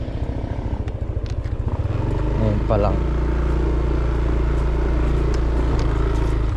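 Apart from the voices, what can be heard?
motorcycle being ridden down a steep road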